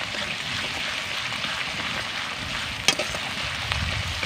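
Ginger and garlic paste fries with onions in a pan for fish biryani, giving a steady, close sizzle with one brief clink of a utensil partway through.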